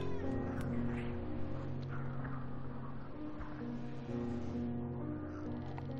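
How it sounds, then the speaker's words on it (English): A cat yowls in drawn-out, wavering cries over a steady droning hum, moderately loud and close. "Sorry about the cat yowling."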